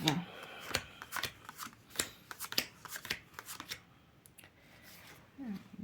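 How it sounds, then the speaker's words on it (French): Tarot-style cards being shuffled in repeated soft riffling bursts, close and moderately loud, with brief pauses between. "J'ai mélangé mes cartes."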